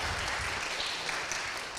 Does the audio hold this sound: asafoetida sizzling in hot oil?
no